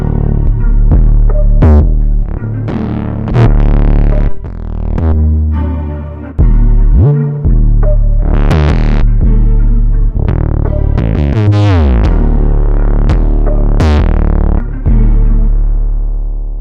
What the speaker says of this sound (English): There are so many great distortion plugins available to add color to your 808s. One of my favorite is Decapitator by Sound Toys.